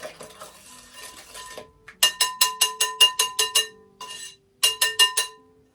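A whisk beaten briskly against a bowl while mixing peach cobbler batter, two bursts of sharp metallic clinks in a quick regular rhythm, close and clear, after some soft stirring sounds.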